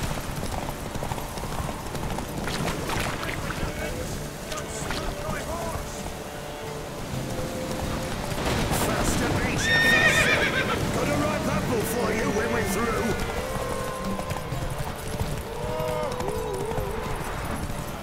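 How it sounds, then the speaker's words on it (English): During a horse race in The Witcher 3: Wild Hunt, hooves pound in a quick galloping rhythm with a neigh partway through, under voices, music and swelling game ambience. "Mount up! Run, Roach."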